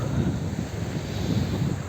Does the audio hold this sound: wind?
yes